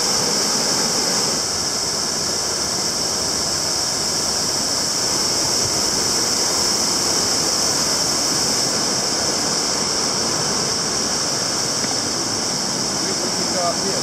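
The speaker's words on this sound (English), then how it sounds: "Tad Huang, waterfall in 2 countries." Steady broadband roar of Tad Huang waterfall in Loei, Thailand, on the border between two countries, a continuous rushing wash of falling water heard close and loud throughout with no break.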